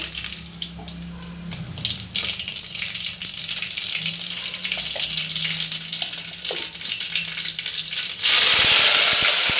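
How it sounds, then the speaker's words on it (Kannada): Sizzling and spattering of mustard seeds in hot oil for tempering, with scattered pops, ending in a loud, steady hiss. "ಎಣ್ಣೆ ಕಾದಿದೆ ಸಾಸಿವೆ"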